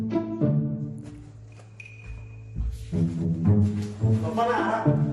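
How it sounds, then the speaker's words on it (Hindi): A loud, droning horn honks in a few long, blaring blasts with wavering pitch, sounding up close over busy background noise. "के लिए हॉर्न बजाए।"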